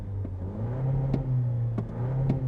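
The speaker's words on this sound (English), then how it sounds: "the engine just kind of whirs to life" 2024 Toyota Land Cruiser hybrid 4-cylinder engine whirring to life without a starter crank, a low steady hum that rises slightly in pitch, close and alone.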